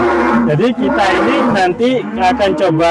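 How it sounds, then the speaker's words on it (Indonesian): Large cattle at a farm holding many cows moo loudly, long drawn bellows overlapping someone talking close by. "Suara sapinya kenceng."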